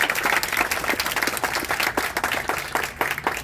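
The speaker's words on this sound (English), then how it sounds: "give him some applause." An audience at a life celebration gathering claps in a sustained, rippling burst of applause, many hands crackling together at fairly close range with a few swells and dips.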